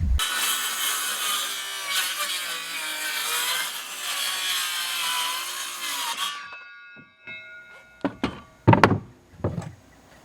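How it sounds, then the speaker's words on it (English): A saw rips a wooden board lengthwise for a rabbit nest box, a loud, close, continuous rasping cut lasting about six seconds, followed by several sharp knocks and thunks of wood being handled. "I'm just gonna trace a line here and rip that down to make it look a little bit more presentable and a little bit slimmer"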